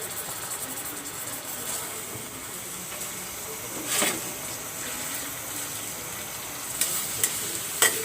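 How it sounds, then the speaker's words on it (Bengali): Mustard oil sizzles softly in a wok with chopped onion and green chili, a steady low hiss with a few faint clinks and stirring knocks near the end. "আমি সরিষার তেল দিয়ে দিলাম।"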